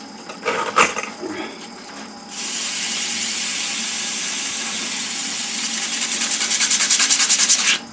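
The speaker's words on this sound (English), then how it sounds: "Slowing it down to sand it." Sandpaper rubs against a Corian pendant blank turning on a slowed lathe, a steady broad hiss setting in after a few scattered knocks and building into a faster pulsing rasp toward the end.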